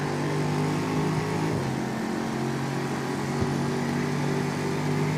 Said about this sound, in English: There's so much roaring. So many roaring engines.